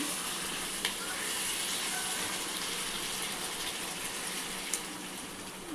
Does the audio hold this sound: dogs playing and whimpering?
no